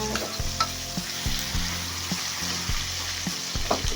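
Shrimp paste (alamang) fries in a pan with a steady close sizzle, broken by repeated scraping stirs of a utensil against the pan, loud and without talk.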